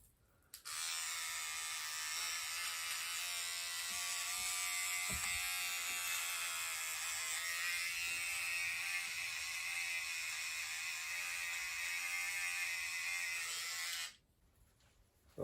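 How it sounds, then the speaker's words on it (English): A cordless hair trimmer buzzes steadily as it cuts hair around the ears, a close, even, high-pitched electric whine that runs unbroken for about thirteen seconds before cutting off. "To do the ears, use a cordless trimmer."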